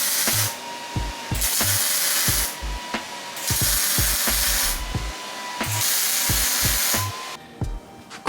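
Spray can painting welded coilover assemblies for a Datsun 280Z rear suspension, long hissing bursts alternating with the rattling clack of the shaken can's mixing ball, close and loud with no talk.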